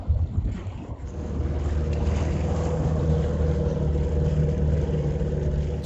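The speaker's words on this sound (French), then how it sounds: "aujourd'hui, c'est pirogue à moteur" Motorized pirogue engine droning steadily on open water off Madagascar, a continuous low rumble with wind buffeting the microphone throughout, no talk.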